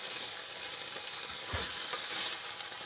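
Chicken with four bell peppers and onions sizzles steadily in a pan, a dense continuous frying hiss with occasional soft stirring scrapes, close and uninterrupted.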